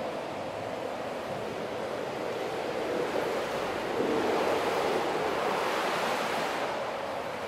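A water feature inside an empty chapel that imitates ocean waves, giving a steady, broad wash of rushing water like surf, continuous and fairly loud with no voices.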